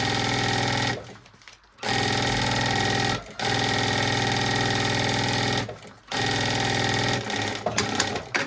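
A sewing machine stitching a seam on a backpack runs in long steady buzzing bursts, close and loud, stopping briefly several times before starting again, with no talk.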